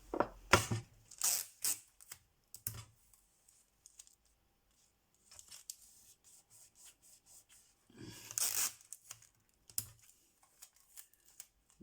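A strip of adhesive tape is pulled and torn from a roll during a paper craft project, giving several short, quiet bursts of scratchy ripping separated by pauses.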